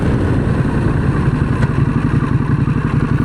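A 2023 Harley-Davidson Pan America Special motorcycle pulls away in first gear, its engine a loud, close, throbbing low rumble that holds steady throughout.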